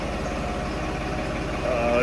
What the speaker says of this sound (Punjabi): ਟਰੈਕਟਰ ਸਾਨੂੰ ਕੱਢਣ ਲੱਗਾ ਟਰੈਕਟਰ ਬਾਹਰ ਆ